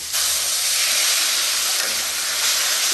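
Hot water hits a frying potato, eggplant and prawn curry in a pan, letting out a loud, close burst of steady steam hiss that holds for a few seconds.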